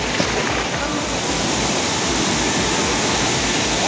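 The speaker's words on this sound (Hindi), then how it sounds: "I think now we have reach the waterfall" Roaring ChaulaBhuja waterfall in the jungle of Mayurbhanj, a steady broadband rush of falling water that holds loud and even throughout with no break.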